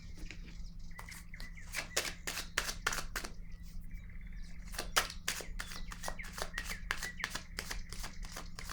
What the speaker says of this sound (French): Je vais déposer une autre carte pour comprendre.